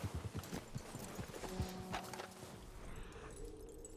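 Horses inside a barn in the Red Dead Redemption 2 video game: rapid hoof clip-clops at the start, then scattered steps with a brief whinny-like cry, fairly quiet and close, with no talk.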